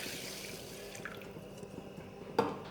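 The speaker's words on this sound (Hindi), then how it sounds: "अब मैं इसमें पानी ऐड कर दूँगी" Water is poured into a cooking pot of kidney beans at home, a soft steady splashing hiss with a brief louder splash near the end, and no talking.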